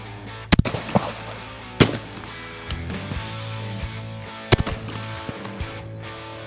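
A Beretta multi-choke shotgun with 3-inch chambers firing at clay targets: four sharp, loud reports spaced a second or more apart, each with a brief echo, over a steady low background.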